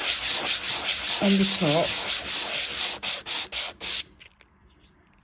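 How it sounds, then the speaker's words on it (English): Circular sanding of a small wooden piece, a steady rubbing scrape repeated in quick strokes close by, ending in a few separate short rubs before quiet. "Each one has to just be just a bit of circular sanding"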